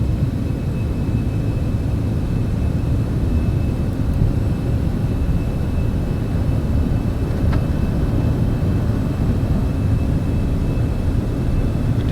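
A Cessna Citation X jet takes off in Microsoft Flight Simulator 2024, a steady, loud engine rumble and roar from inside the cockpit with a faint high tone, continuous and unchanging throughout.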